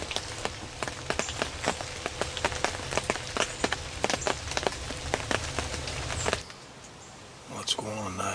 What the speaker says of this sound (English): still got a little bit of rain dripping off the trees